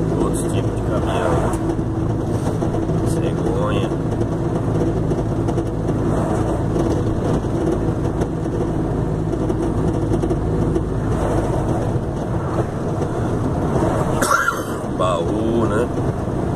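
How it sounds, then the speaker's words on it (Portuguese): Trucks and other vehicles rumble past a roadside gas station in Várzea Grande, Mato Grosso, a continuous engine and road drone with passing swells, while someone talks over it throughout. "Outros tipos de caminhão."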